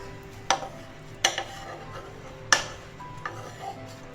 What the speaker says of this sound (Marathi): असं तूप लावून घेऊया सगळीकडे आणि ह्याची पलटी मारून घेऊया आपण